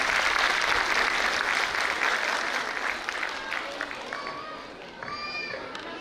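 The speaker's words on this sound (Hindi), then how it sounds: "एक बार तालियां और बजा लीजिए प्लीज।" Sustained audience applause fills the hall at a school annual day, a dense, steady clapping that fades slightly toward the end with a few voices and whistles breaking through.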